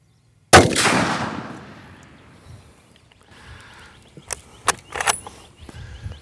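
A single loud .30-06 rifle shot cracks out at a shooting range, its blast decaying over about a second, followed by a few faint clicks and handling noises.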